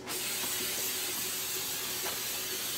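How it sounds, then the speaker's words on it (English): Steady, close hiss of hairspray coating a weathered Star Wars Sandtrooper helmet, one continuous spray running nearly three seconds with no voices. "So now I'm going to hit it with a really good coat of hairspray."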